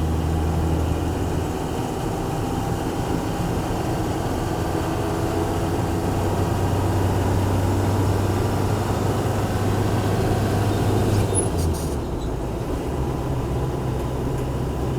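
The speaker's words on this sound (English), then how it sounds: "We hear that diesel clacking away" A 1979 Toyota Land Cruiser FJ40 diesel engine clatters steadily while driving, a loud continuous low drone with road noise that shifts briefly near the end, with no talking.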